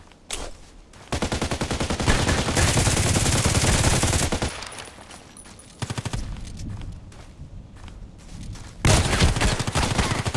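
Rapid, dense gunfire from the online shooter Contract Wars: loud sustained automatic bursts rattle almost continuously, with brief lulls between volleys and no talking over them.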